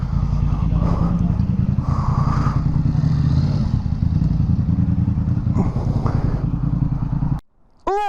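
A Kawasaki H2 motorcycle engine idles loudly and close, a dense throbbing rumble that holds steady and then cuts abruptly, followed by a short descending whine.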